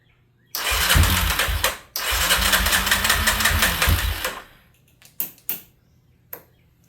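A quad ATV engine with the choke fully on fires up and runs at a fast, rough, rattling pace for about three seconds, cuts briefly, then revs again before dying away, with a few short sputters and bursts of restarting afterwards.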